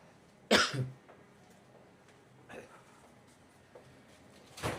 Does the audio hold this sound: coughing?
yes